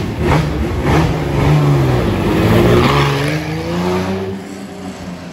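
A Ferrari BB512 on a Paris street, its engine note rising and falling loudly as the car passes close by, with revving harmonics sweeping up and down over several seconds before fading.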